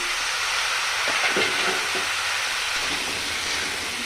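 Eggs and carrots sizzle and fry steadily in a hot pan for a chicken stew, a dense constant hiss with a few soft stirring scrapes partway through, close and fairly loud.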